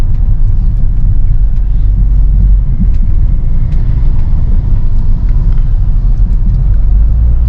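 A 2003 Peugeot 307 SW automatic with a 2.0-litre four-cylinder petrol engine being driven, heard from inside the cabin as a steady, loud low engine and road rumble with no talking.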